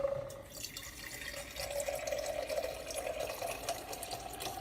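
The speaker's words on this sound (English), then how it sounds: "Now we'll have the filtered water." Filtered water streams from an iSpring RCC7AK reverse osmosis filter faucet into a sink, a steady close running flow with a faint tonal hum beneath the splashing.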